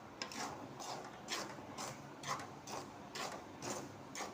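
Uppu seedai, small fried rice-flour balls, rattle and rustle in a pan as they are stirred, a faint rhythmic series of scraping, clattering bursts repeating about every half second.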